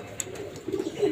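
A caged pigeon gives a brief low coo, soft and close against a quiet background.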